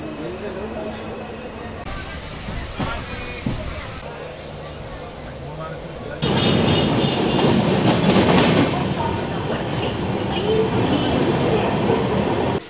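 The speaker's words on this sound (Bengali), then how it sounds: "শিয়ালদা থেকে কাঞ্চনকন্যা এক্সপ্রেস সঠিক টাইমে ছেড়ে দিল" Kanchankanya Express pulling out of Sealdah station, wheels squealing and carriages rumbling close by, growing louder midway into a steady rolling clatter, with a voice speaking over the start.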